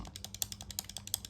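A rapid string of small plastic clicks from the A, B, X, Y, bumper and trigger buttons of a Gamesir X5 Lite game controller, about a dozen in quick succession, close and light over a faint low hum.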